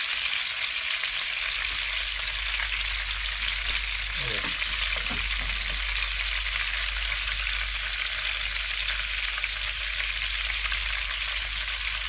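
Pike and perch coated in cornmeal fry in margarine in a pan, giving a loud, steady, dense sizzle that runs unbroken throughout, with faint stirring or shifting near the middle.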